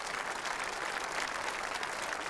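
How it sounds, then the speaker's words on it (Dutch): Dense, steady applause from a grandstand crowd at a children's Olympics event in Maasniel, filling the whole stretch as a continuous broadband wash without pauses. "En de applaus van de tribune hier"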